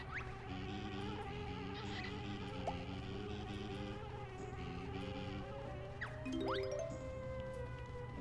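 Bees in the video game Banjo-Kazooie give a steady, insect-like electronic buzz throughout, with rising chime and jingle effects layered over it, at a moderate, even level and without talk.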